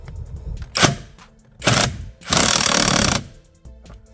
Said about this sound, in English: an impact gun here,